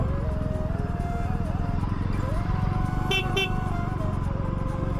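Car and motorcycle horns honk repeatedly in crowded traffic at Trimbak, with sustained tonal blasts overlapping over a steady engine and street rumble throughout.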